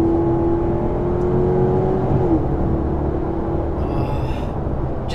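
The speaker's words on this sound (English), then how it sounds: "Just listen to that exhaust." A 2011 Maserati GranTurismo S MC sport line's exhaust holds a steady, rich engine note that swells slightly mid-clip, a continuous loud drone with no talking.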